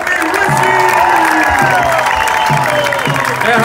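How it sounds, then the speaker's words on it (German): A large crowd at a farewell party for a Crailsheim Merlins basketball team claps and cheers loudly and continuously, with whoops and shouting layered over the dense applause. "Das ist ein Applaus"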